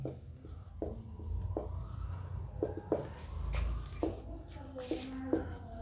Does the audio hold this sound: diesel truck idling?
no